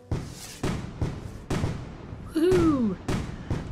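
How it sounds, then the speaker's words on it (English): Fireworks burst repeatedly in a nighttime scene of the train-building game Tracks: The Train Set Game, sharp thumping pops at irregular intervals, with a brief whistling rise and fall amid them. "All the fireworks shooting off."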